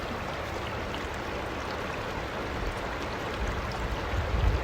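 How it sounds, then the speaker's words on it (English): Phone voice memo recording of a river running: a steady, soft broadband rush of flowing water with low rumbling that swells slightly toward the end. "I made a little voice memo recording of the river running"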